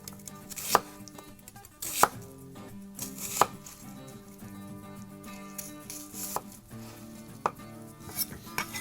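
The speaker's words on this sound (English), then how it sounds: "We'll get that onion skin off, and then I'm gonna slice these into roughly 1/4 inch slices." Kitchen knife slicing a peeled onion into quarter-inch slices on a cutting board, with sharp chopping knocks at irregular intervals, fairly close, and faint clatter in between.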